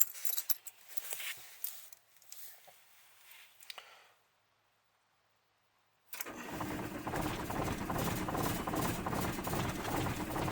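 A VW T4 Transporter diesel engine with glow plugs that are not glowing cranks, falls silent, then cranks again in a long, steady, churning run without catching.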